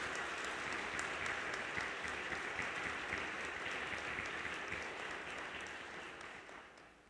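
Audience applause at a diocesan catechists' gathering in Araçatuba, a steady wash of many hands clapping at moderate distance that gradually fades out toward the end.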